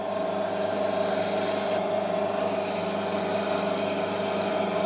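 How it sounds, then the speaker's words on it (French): A turned wooden candlestick spinning on a lathe while being sanded with 400-grit sandpaper, a continuous close rasping rub over the steady hum of the lathe, with a brief dip in the scratching near the middle and again at the end. "Donc on passe sur un grain 400."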